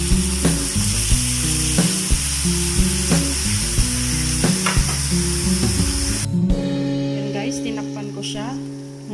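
Chicken adobo sizzles and crackles in a pan while being stirred, a steady bright fry under background music with rhythmic beats, and a voice speaking over it.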